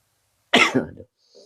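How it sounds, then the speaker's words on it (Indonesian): A single short cough, close and abrupt, followed by a faint trailing breath in an otherwise quiet room. "Batuk."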